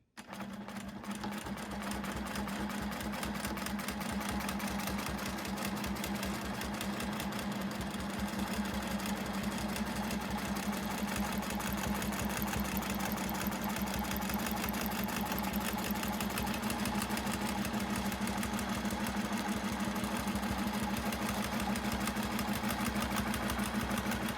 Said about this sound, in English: let's start quilting again